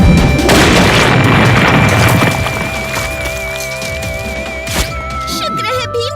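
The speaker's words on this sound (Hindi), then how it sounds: "शुक्र है भीम, तुमने इस चिपकू धमाके को सही समय पर फेंक दिया, वरना हम सब च्युइंगम की जाल में फंस जाते।" A cartoon bomb made of sticky chewing gum explodes with a loud boom, followed by scattered debris and fading effects, with tonal music underneath.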